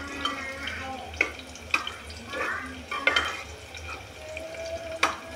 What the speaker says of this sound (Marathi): बारीक गॅसवरतीच भाजून घ्यायचा आहे।